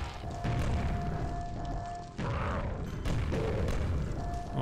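Gunshots in the first-person shooter Quake, Mission Pack Scourge of Armagon: several heavy booming blasts spaced a second or so apart over droning game ambience and tones, with someone talking faintly in between.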